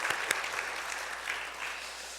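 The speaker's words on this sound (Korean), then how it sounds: "우리 박수로 환영하겠습니다." A church congregation applauds to welcome new members with a steady, moderately soft wash of many hands clapping together, briefly and without letting up.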